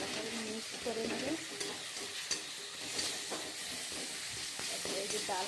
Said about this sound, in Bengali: ভালো করে মিক্স করে নেবেন।